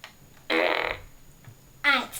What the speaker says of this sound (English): The fart gun of awesomeness.